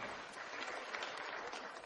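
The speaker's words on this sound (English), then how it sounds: "Let's give them a nice big round of applause." Audience applause at a horse racing awards night, a faint, even spatter of clapping heard from a distance for a couple of seconds.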